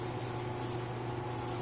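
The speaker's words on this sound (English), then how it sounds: "once I kind of start spraying color on it" Steady, close aerosol hiss of spray paint on a painted figure being recoated after two strippings, running continuously with a faint rubbing texture and no talk.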